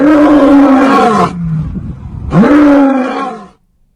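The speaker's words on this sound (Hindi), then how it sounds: "तस्वीरों में आप देख सकते हैं किस तरह 2 बाघ दहाड़ते हुए रोड पार कर रहे हैं।" Two tigers crossing a road in the Corbett area of Nainital, with two loud, close, deep roars separated by a brief low groan, the second fading out at the end.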